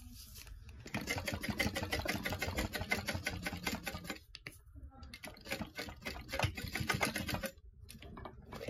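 A sewing machine stitches a bag seam with backstitching, running in quick rhythmic bursts that stop and restart, fairly close and steady.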